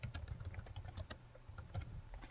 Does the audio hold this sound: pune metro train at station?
no